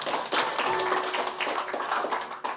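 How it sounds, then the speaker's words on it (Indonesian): A church congregation claps together during a Sunday worship service, a dense, steady wash of many hands with a faint held musical tone underneath. "Tepuk tangan dulu buat Tuhan"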